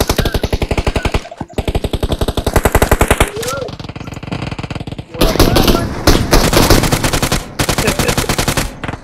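Automatic gunfire in a PUBG Mobile gunfight, with loud rapid bursts of shots close by, brief pauses between volleys, and a sustained heavy stretch of firing near the end.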